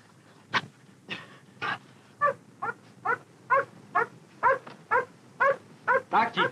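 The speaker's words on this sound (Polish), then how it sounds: "Do ataku skoczył pies." A dog in a 1950s film attack scene gives a steady run of about fifteen sharp, evenly spaced barks or snarls, fairly close, with no voices over them.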